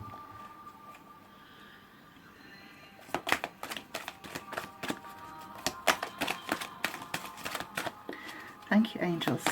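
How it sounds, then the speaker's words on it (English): Tarot advice cards drawn and shuffled from a deck, rapid close papery flicks and slaps starting after a quieter opening, with a voice speaking around them. "I'm going to draw 2 advice cards for you now."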